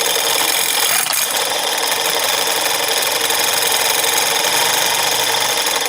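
A motor spins a magnet in a three-phase levitation rig, giving a steady, loud whirring hum that holds evenly throughout, with no voices.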